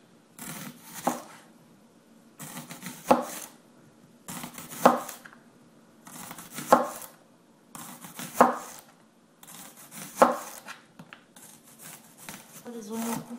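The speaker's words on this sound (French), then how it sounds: "Puis on fait pareil pour l'oignon en fines rondelles." An onion is sliced into thin rings with a knife on a board, six distinct clusters of crisp chopping cuts about every two seconds, close and fairly loud with quiet gaps between.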